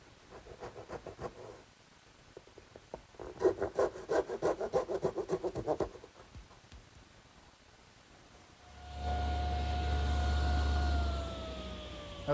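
A hand saw makes tenon cuts in wood, two bursts of quick rhythmic rasping strokes separated by pauses, close and fairly quiet, followed by a steady hum with a faint high whine from another source near the end.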